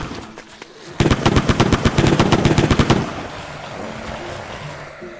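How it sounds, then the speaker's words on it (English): A Tommy gun in a video game fires a rapid two-second burst of sharp, evenly spaced shots, loud and close, then fades into a low background hum. "Tommy gun, please."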